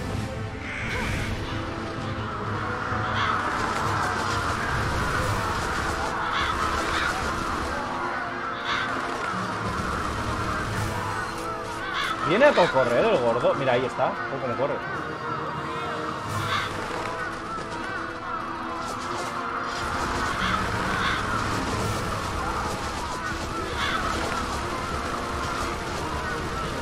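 Crows caw in the video game Bullet Witch, their harsh calls scattered over dense game sound, with a louder burst near the middle, while someone talks throughout.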